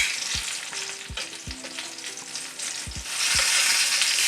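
Food sizzles and fries steadily in a hot pan while pieces are flipped, with a few soft thuds and scrapes of a utensil against the pan over a continuous loud crackle.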